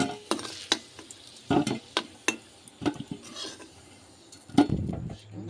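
Fried potatoes are lifted out of a pan with a metal utensil, giving a series of sharp clinks and scrapes over a faint sizzle, close and moderately loud, with no voices.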